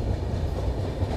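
The Konark Express pulls out of Pithapuram station with a dense, continuous low rumble of wheels on rails, loud and close with no pauses.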